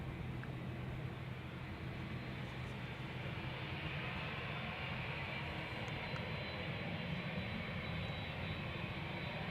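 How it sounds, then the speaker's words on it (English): A nine-year-old TUI Boeing 787-8 Dreamliner taking off at Amsterdam Schiphol Airport gives a steady, even engine roar that holds faint and distant throughout, with no voices. "this is TUI flight 377 to Willemstad, Curaçao, will be taking off shortly"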